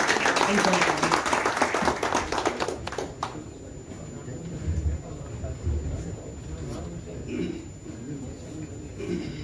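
An audience at a poetry farewell gathering claps loudly for a poet, a dense burst of applause at first that gives way to scattered claps and murmuring crowd noise, with voices underneath.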